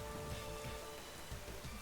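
Rain summoned by Drizzle in a Pokémon VGC battle, a dense, steady patter of falling rain with no voices over it.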